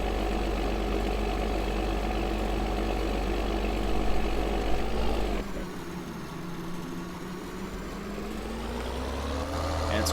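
Tractor engine idling in Farming Simulator 2013, a steady low mechanical drone that drops to a quieter, lower idle about halfway through and then holds evenly.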